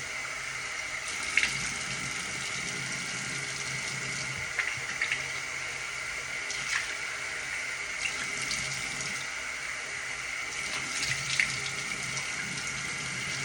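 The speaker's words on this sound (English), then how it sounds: "So I'm washing that off my face" Tap water runs steadily into a bathroom sink while someone washes their face, a continuous hiss and splash throughout with a few brief louder splashes, no talking.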